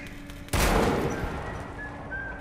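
Gunfire from the video game Metro Last Light erupts abruptly into a loud, dense burst that sustains as a continuous volley, trailing off slightly with a faint tonal hum beneath.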